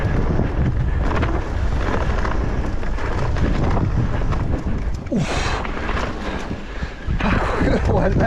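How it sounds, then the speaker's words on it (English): Strong wind buffets the microphone in loud, uneven gusts on the Y Wal mountain bike trail at Afan, with a brief voice rising above the roar. "Oh, windy!"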